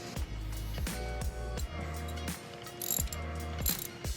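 A ratchet wrench loosens valve cover bolts on a 5.7 Hemi engine, clicking in quick close bursts of several turns each, with short pauses between strokes and no talking.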